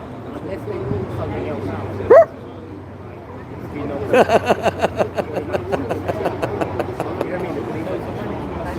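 A puppy gives a sharp yelp, then a run of quick, rhythmic yips and barks follows close by, set against outdoor street crowd babble at a Westminster Magistrates trial gathering.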